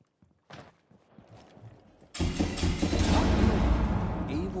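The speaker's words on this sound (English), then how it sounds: "I just heard those footsteps" Footsteps in a competitive video game match: quiet scattered taps and thumps at first, then a sudden denser burst of close, busy step and movement noise that continues steadily to the end.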